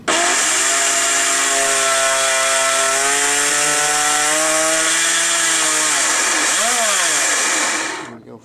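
An outboard-style motor coupled to a jet unit through a plum coupler runs smoothly and steadily, a loud continuous whine with stable tones that dip briefly once before the run winds down and cuts off.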